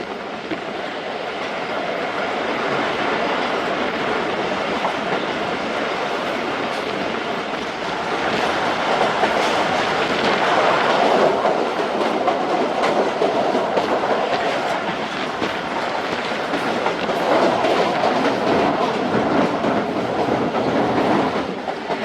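A Thal Express passenger train runs along the tracks with a steady, close rumble and rhythmic clickety-clack of wheels that swells slightly midway and continues unbroken throughout, with no voices.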